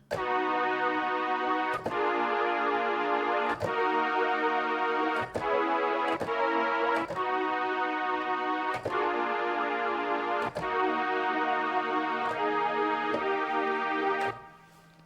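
A processed K-pop beat melody plays as a steady, harmonically rich synth line in evenly spaced phrases, with sharp rhythmic accents at regular intervals, loud and continuous before fading at the end.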